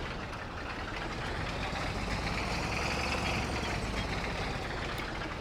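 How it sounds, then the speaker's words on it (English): A continuous low engine rumble from a vehicle in Farming Simulator 22 runs throughout at a steady, loud level, like a heavy vehicle driving at constant speed. "over the noise of this engine"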